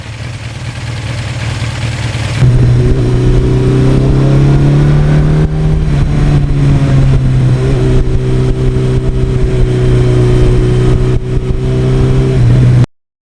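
A 1982 Suzuki GS1100E motorcycle engine drones loud and close while riding on empty back roads, holding a steady high-speed note after a shift early on, with no talk.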